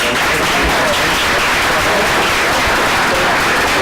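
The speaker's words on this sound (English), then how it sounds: "another final round of applause for our guests" Loud, continuous applause at a forum for guests from Puerto Rico, a full crowd clapping densely and steadily throughout with a faint murmur of voices underneath.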